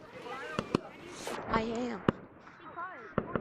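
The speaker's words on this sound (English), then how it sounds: "in Gorilla Tag, the fireworks are going on." Fireworks in the Gorilla Tag video game, several sharp pops and bangs spaced irregularly over a few seconds, with a crackling burst in the middle, heard under a person talking.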